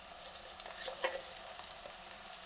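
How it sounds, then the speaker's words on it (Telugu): Tempering frying in a pan as curry leaves go in for a tomato curry: a steady, fairly quiet sizzle and crackle with a few faint stirring scrapes, heard alone. "ఇది ఇట్లా మంచిగా వేగింది కదండి పోపు. ఇప్పుడు ఒక 4 రెమ్మల కరివేపాకు"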